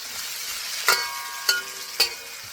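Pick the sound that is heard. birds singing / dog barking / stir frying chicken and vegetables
stir frying chicken and vegetables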